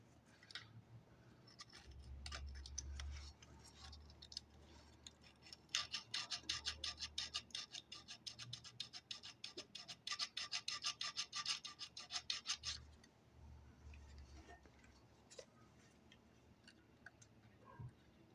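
Sanding oxidized parts of a Lincoln Lincwelder 225 welder by hand with 320 grit sandpaper: quiet, close scraping strokes that build into a quick, steady back-and-forth rhythm for several seconds, then trail off into sparse rubs.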